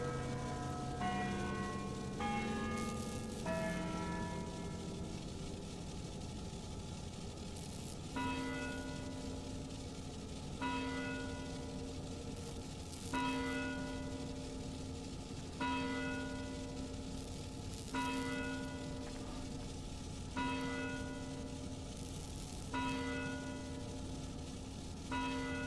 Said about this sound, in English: the chimes of a neighboring church struck the 4 quarters